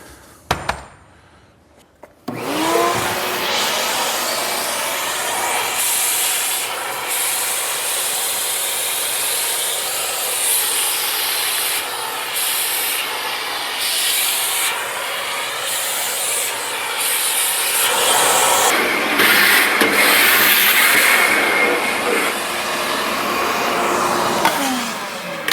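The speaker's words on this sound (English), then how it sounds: "Okay, let's get a vacuum." A vacuum cleaner running in a home garage, starting abruptly and then droning loudly and steadily for over twenty seconds with shifting rushing air noise and occasional knocks.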